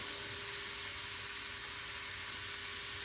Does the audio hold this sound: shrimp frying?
yes